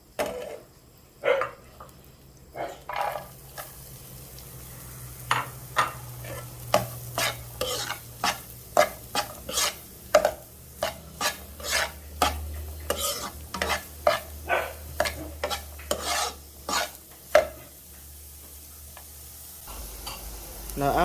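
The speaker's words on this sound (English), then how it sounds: "after we've mixed the carrots with the butter" A spoon stirs carrots through melted butter in a pan, giving a steady series of sharp clinks and scrapes over a soft, continuous sizzle, close and fairly loud.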